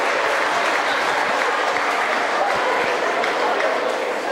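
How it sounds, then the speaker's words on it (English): Sustained crowd applause fills the hall after best-in-group judging at the 2016 EKKA dog show, dense steady clapping throughout with faint voices mixed in. "Please put your hands together for these outstanding specimens of their breed."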